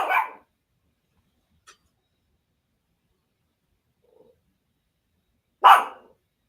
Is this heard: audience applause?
no